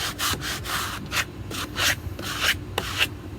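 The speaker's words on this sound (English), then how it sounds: "you can always take something sharp and scrape parts of it off" A sharp tool scrapes paint off a cabinet door in short repeated strokes, a rough, close rasping that comes in a steady back-and-forth rhythm with no talking.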